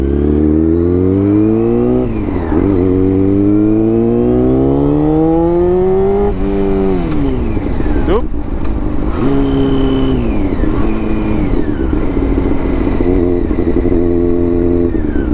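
An ATV engine revs up and down repeatedly as it rides through a forest, pitch climbing through gears, loud and close with rattling clatter.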